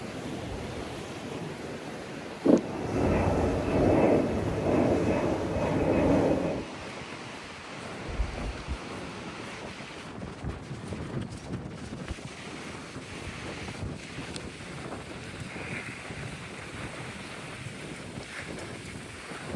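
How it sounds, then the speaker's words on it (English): Strong, blustery wind buffets the microphone while cycling along the coast toward Palma, with loud rumbling gusts early on that ease into steadier, lighter rushing and occasional thumps. "So very, very blustery still"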